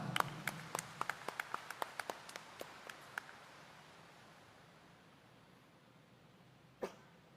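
A church congregation gives scattered, faint hand claps that slow and fade out over a few seconds, followed by quiet room hiss and a single soft knock near the end.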